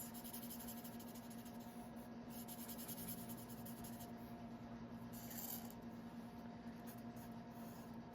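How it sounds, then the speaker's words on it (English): A dry erase marker writes steadily on a surface, a continuous close, quiet squeaky rubbing over a faint electrical hum, with no talking. "This is a dry erase marker."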